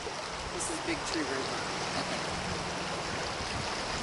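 Big Tree River flowing past a beach, a steady broadband rush of moving water that holds constant from start to finish.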